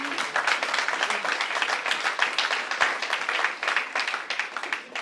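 A church congregation claps and applauds loudly for the Lord, a dense, sustained roar of many hands lasting several seconds without a break, close and full.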